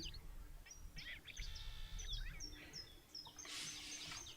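Songbirds sing in the background of a forest landscape, with a series of brief chirps and trills and a brighter burst of calls near the end, all faint and distant over a low rumble.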